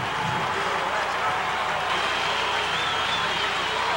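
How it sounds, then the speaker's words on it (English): Crowd at a 1999 Mets versus Yankees baseball game as the Mets take the field, a continuous broad roar of the stadium crowd filling the background beneath a commentator's steady talk. "you hear the crowd in the background as the Mets take the field"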